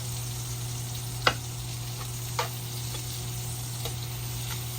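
Ground beef and onions frying in a pan give off a steady, even sizzle, with a couple of sharp taps and clicks breaking through the hiss.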